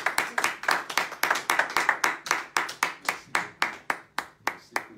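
A church congregation claps in time during a Sunday service. Around twenty sharp, close hand claps arrive at a regular beat and then slow and thin out toward the end.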